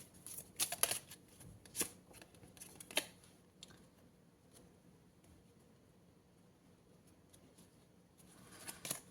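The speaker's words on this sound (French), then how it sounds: "On va prendre une deuxième carte." Tarot cards being shuffled and drawn give soft, quiet flicks and papery snaps in scattered bursts, with a calmer stretch in the middle and more handling near the end.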